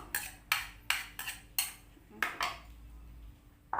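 A spoon stirs a coconut milk mixture in a pot for a pumpkin custard dessert, knocking against the sides in a steady series of about seven close, moderately loud clanks, with no speech.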